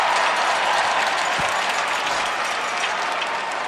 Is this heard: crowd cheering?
yes